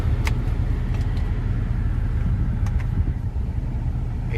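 2010 Ford F-150 Lariat pickup truck driving, a steady low road rumble with engine drone heard from inside the cab, moderately quiet and continuous with a few faint clicks.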